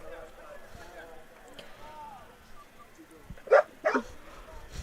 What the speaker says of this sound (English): we got two dogs out here